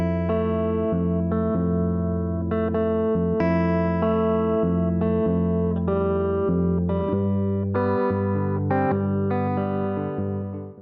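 Four bars of strummed guitar chords alternate between F and open G, played with an effects-laden electric tone and steady rhythmic strokes, sustained and ringing alone without talk.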